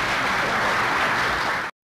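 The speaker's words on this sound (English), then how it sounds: "let's give each of these candidates a nice round of applause" Audience at an election get-out-the-vote candidates forum applauds the candidates: a dense, steady wash of clapping, loud and close, holding evenly before stopping abruptly.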